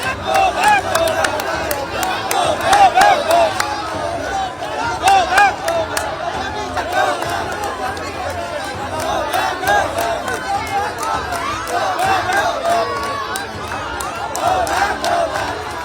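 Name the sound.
crowd chanting "go back" slogans at a Trinamool MP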